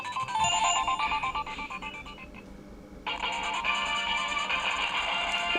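Bright, chiptune-style Super NES game music emulated on a budget handheld, with quick repeating melodic notes, a brief dip, then a fuller, denser burst of tones that continues loudly.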